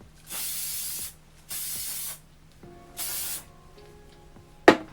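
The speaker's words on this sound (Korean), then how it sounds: "그리고 일단 전체적으로 한번 뿌려줄게요." Hair spray misted onto hair at a hair salon during styling: three separate hissing bursts, each under a second, evenly spaced, then a sharp click at the end, no talking.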